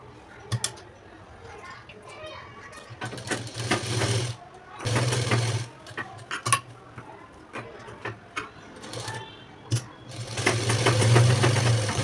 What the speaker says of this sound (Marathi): तर बघा आता आपल्याला याला टिप मारून घ्यायची गळ्याला.